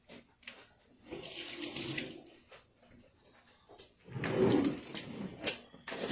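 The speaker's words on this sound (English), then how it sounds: "I'm going to rinse these in cold water real quick." Mixed vegetables rinsed under a cold kitchen tap, water splashing and running in uneven bursts with brief handling noises between them.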